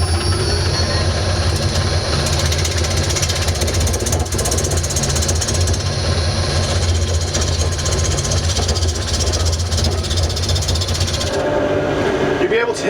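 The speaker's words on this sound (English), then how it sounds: "Just got a nice sharp bull gouge here. I'm just going to run the wing of it across just to flatten the end off." A sharp bowl gouge cuts across the end of a piece of laburnum wood spinning on a lathe, giving a loud, continuous rough grinding roar with the motor's low hum underneath, which drops off near the end.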